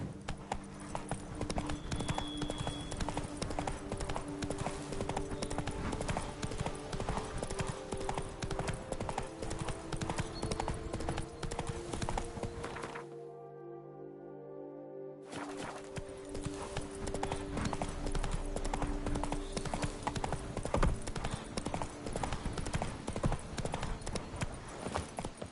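Horse hooves clip-clop steadily in The Witcher 3 video game, a continuous galloping beat with a brief quiet gap in the middle before the hoofbeats resume.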